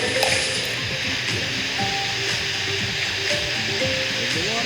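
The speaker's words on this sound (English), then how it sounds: "There's the water." Water flows in an Apple Vision Pro example game run in a simulator, a steady rushing stream with faint voices underneath.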